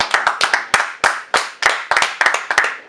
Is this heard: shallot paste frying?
no